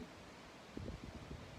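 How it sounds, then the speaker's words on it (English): Wind blowing outdoors, a steady broadband rush buffeting close to the microphone, with a brief gust and faint rustling partway through. "Okay, wind, you're back."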